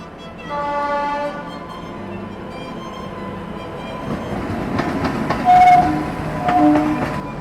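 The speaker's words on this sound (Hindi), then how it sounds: "और ये है काशी विश्वनाथ एक्सप्रेस।" Kashi Vishwanath Express passenger train rolling past on Indian railway tracks, a steady rumble of wagons with clattering wheels, a brief horn blast near the end, no voices.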